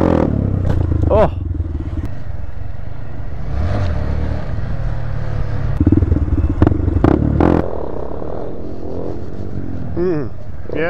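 Motorcycle with a badly slipping clutch during wheelie practice: engine revving in uneven surges with clattering and scraping bursts, close and loud, with people talking over it.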